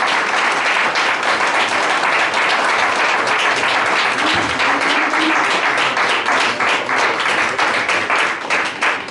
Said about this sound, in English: if you'd give them a round of applause